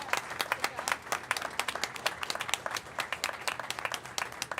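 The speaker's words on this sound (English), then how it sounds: "Let's give them a big round of applause for that" Applause from an audience at a school board meeting, a fairly distant mix of many hands clapping with sharp individual claps standing out, steady for several seconds with faint voices underneath.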